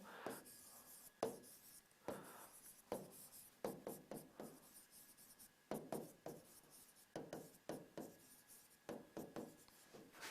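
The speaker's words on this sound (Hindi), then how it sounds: "देखिए मैं दोबारा लिख देता हूं" Chalk or marker writing on a classroom board during a polity lesson: repeated scratchy strokes in short bursts, close and fairly clear, with no talking over them.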